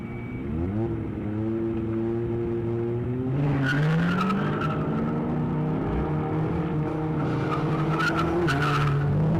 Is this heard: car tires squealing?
yes